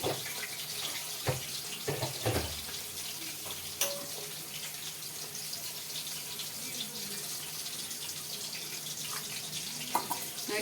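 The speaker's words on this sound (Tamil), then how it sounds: "இப்போ கொஞ்சமாக தண்ணி சேர்த்துக்கலாம்." Water is poured into a pan of crab gravy, making a faint, steady running-water wash with a few soft clinks and light sizzling beneath.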